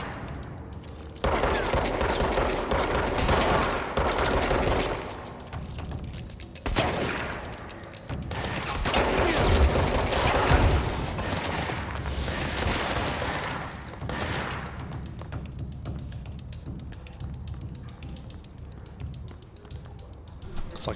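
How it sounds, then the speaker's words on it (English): Gunfire in a firefight in the video game Control, with bursts of shots and blasts rising and falling over a steady game soundscape, loud in stretches and easing off toward the end. "Looks like we have a bit of a firefight here, so we'll try to engage and not die here."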